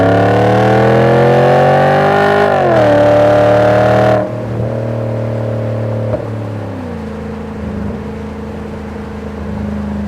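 A Volvo S80 V8 with a custom exhaust pulls hard at full throttle from 3,000 RPM, its loud rising engine roar climbing steadily, then dropping sharply at a shift before building again at a lower pitch.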